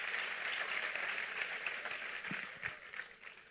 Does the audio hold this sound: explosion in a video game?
no